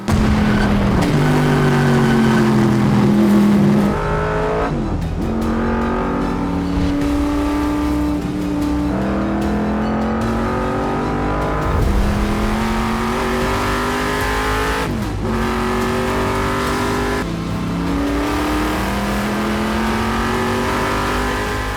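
The world's fastest Camaro race car screams around a track, its engine revving hard through repeated upshifts with rising and falling pitch, loud and close throughout.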